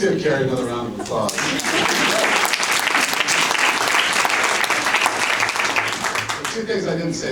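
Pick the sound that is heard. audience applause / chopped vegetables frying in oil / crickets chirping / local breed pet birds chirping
audience applause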